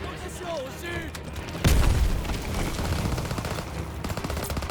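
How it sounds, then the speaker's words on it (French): Machine gun fire in the WWII shooter game Call of Duty WWII: a sudden loud burst of rapid gunfire and explosions in a battle mix, with shouted voices over continuous combat noise. "Daniel, c'est la mitrailleuse"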